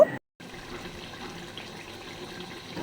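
Hot water, about a cup, poured into an egg masala in a cooking pot while making egg biryani, giving a steady, close pouring and splashing wash that runs without break after a brief silence at the start.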